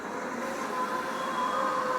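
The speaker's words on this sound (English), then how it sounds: "they're making sure the train stops where it needs to on the brake run" Penguin Trek roller coaster train at SeaWorld Orlando doing a test run into the brake run, a steady close rolling rumble with a faint high metallic whine that holds throughout.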